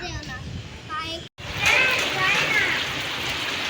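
Heavy rain pours down in a steady, loud wash, broken by a brief dropout, while children's voices chatter and call over it.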